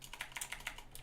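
Quick run of keystrokes on a computer keyboard while a password is entered, about a dozen light, close clicks in an uneven rhythm over a second.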